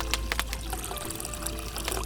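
Water poured into a pan with sugar and wine for poaching peaches, heading into a wood-fired oven; a close, steady splashing pour runs throughout the short stretch.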